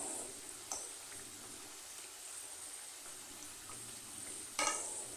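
Spinach pakoda fritters fry in hot oil, a soft continuous sizzle with occasional brief crackles and spatters from being turned, fairly quiet and without speech.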